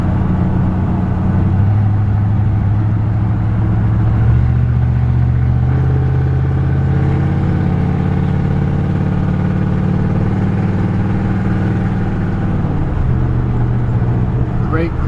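A 1972 Chevrolet C10 pickup with a loud exhaust cruising at low speed, a steady deep engine drone that shifts gear and pitch, heard from inside the cab.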